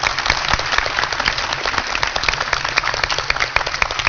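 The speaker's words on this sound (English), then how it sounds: "Give yourselves a round of applause." Audience applause at the NASA Space Apps Challenge Huntsville 2018 finale awards ceremony: a dense, loud wash of many hands clapping together that is sustained evenly throughout.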